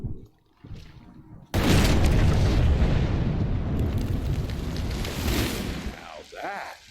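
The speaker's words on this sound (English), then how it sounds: "Now that is how you shape an explosion." A massive explosion in the video game Evil West erupts after a brief quiet stretch, a loud sudden boom rolling into a long, dense rumble that slowly fades, with a voice briefly heard near the end.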